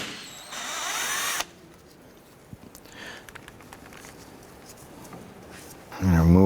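A power tool fitted with a 10mm socket whirs steadily for about a second while removing a bolt from a 2008-2013 Honda Accord engine bay. Faint clinks follow, then a louder buzzing burst near the end.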